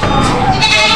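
A goat bleats at a livestock auction market, one loud, close, wavering cry filling a short burst.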